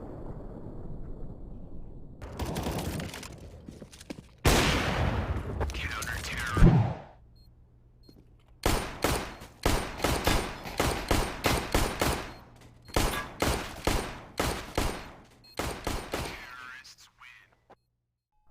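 Counter-Strike gunfire bursts out in a rapid fusillade of sharp, loud shots, first a few heavy blasts then long runs of evenly spaced reports, clipped and close, with brief quiet gaps between volleys.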